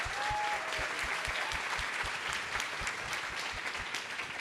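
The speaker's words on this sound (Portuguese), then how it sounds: "Uma salva de palmas para o Dr. Drauzio." Sustained applause from an audience at a Brazilian panel talk, dense and steady for the whole stretch, with a few deeper thumps running underneath and no talking.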